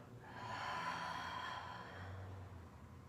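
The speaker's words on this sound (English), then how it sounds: "Long breath out." A long, soft breath out during a gentle yoga stretch session, a single drawn-out exhale lasting a couple of seconds, quiet and close.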